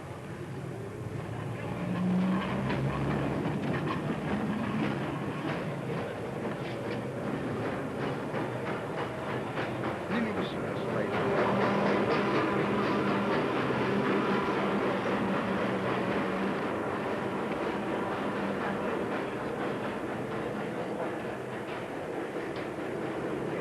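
A London ex-Leyton E3 tramcar rumbles past nearby with steady rolling noise and faint rail clatter, swelling as it draws closest and then holding on without a break.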